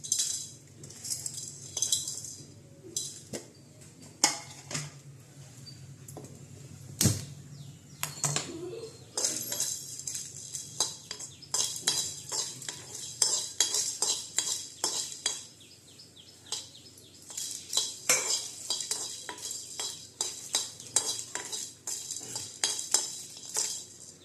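Black pepper, cloves and star anise dry-roasting in a pan, heard as steady clinks and scrapes of a spoon against metal with small rattling taps, fairly close and moderately loud, no talking.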